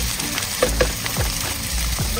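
Shrimp fry in a pan with curry, ginger and scallion whites at an outdoor seaside cookout, giving a steady close sizzle with a few soft clinks and stirring scrapes, and no talk.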